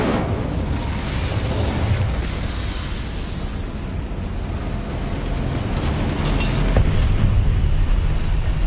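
An Incendio fire spell cast in the game Hogwarts Legacy gives a steady, loud roaring rush with a low rumble that swells near the end and has no talk over it.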